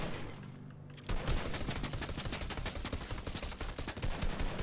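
Rapid automatic gunfire in Fortnite. After a brief quiet start, a loud, dense, continuous burst of shots rattles steadily to the end.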